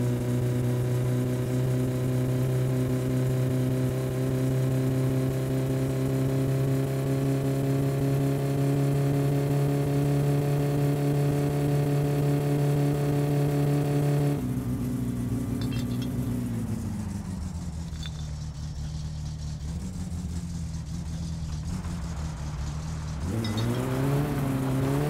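A car in the My Summer Car driving game revs hard with a steady droning engine tone, then the pitch drops and wavers as the tires slip, rising again near the end; no one talks.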